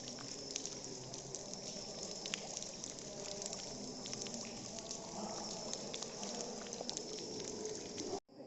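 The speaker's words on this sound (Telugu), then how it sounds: "డ్రాప్స్ పడుతున్నాయి చూడండి, అసలు చుక్కలు చుక్కలు డ్రాప్స్ పడుతున్నాయి" Water drips from holes in the rock roof of the Borra caves, a dense continuous patter of drops over a steady background wash, no voices heard, ending with a sudden cutoff.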